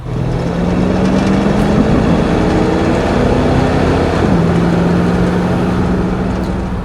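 A 1979 Dodge Power Wagon with its original 318 engine and automatic transmission pulls under throttle, a loud, close, rising engine drone that climbs in pitch, drops with a gear change, then keeps building steadily.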